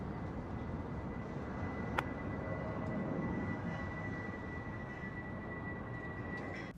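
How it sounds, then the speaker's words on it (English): A low-flying fighter jet roars past a soldier up close, a steady loud broadband rush with a sharp transient near the two-second mark and a sustained whine running throughout. "This soldier got an up-close visit from a fighter jet."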